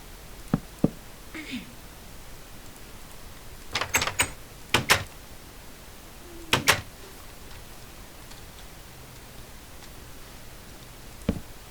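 Wooden door being placed and opened in Minecraft, a few short sharp clicks and thuds in quick pairs against quiet background, with someone talking softly between them.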